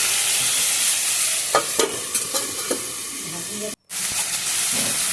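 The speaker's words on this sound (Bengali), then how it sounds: "হলুদটা দিয়েও আমি নাড়াচাড়া করে মিশিয়ে দেবো।" Cauliflower and vegetable stalks frying in a pan in a Bengali home kitchen, with a steady close sizzle and hiss and a few scraping stirs of a spoon against the pan.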